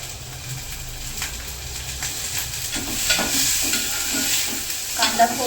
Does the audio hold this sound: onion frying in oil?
yes